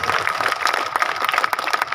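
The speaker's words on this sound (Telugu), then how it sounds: "ప్రతి ఒక్కరూ కరతాళం కూడా ఆశీర్వదిస్తారు." Audience clapping at a kolatam folk stick-dance performance, a dense continuous patter of many hands held steady and fairly close throughout.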